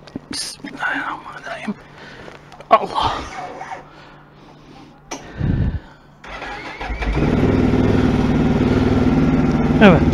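An engine cranks and catches on a cold morning around 14 degrees, after a history of stalling, settling into a loud steady running note; quiet whispered talk and rustling come before it starts.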